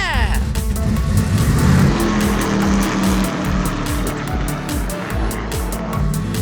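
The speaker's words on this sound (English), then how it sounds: "Now it's time to get this race car on the track." A race car drives on a track, its engine roaring loud and close with repeated rising and falling revs throughout, while excited voices shout over it.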